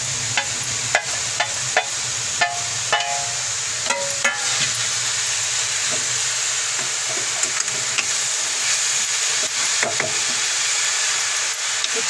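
Carrot halwa stirred in ghee in a pan, with a steady close sizzle and repeated sharp scraping clicks of the spoon against the pan throughout.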